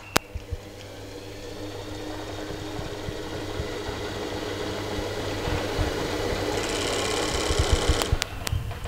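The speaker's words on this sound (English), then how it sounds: "We shall overlock." An overlock sewing machine runs steadily while stitching a seam on a pocket bag for a pair of shorts, a close mechanical whir that lasts almost nine seconds and grows slightly louder near the end, with a few sharp clicks.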